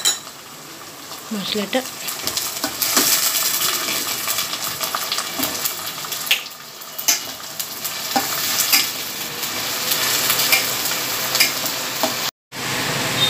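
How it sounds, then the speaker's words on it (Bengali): A spatula stirs ginger and chilli paste in a pan for a Bengali chicken kosha, scraping and sizzling up close in steady strokes while someone speaks briefly. "এবার একটু আমরা নেড়ে নেব খুন্তি দিয়ে"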